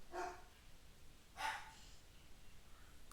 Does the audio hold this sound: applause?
no